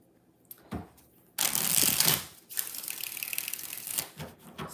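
Tarot cards get shuffled by hand in bursts, a brief riffle, then a longer loud rustling flutter, a pause and another sustained shuffle, close and alone.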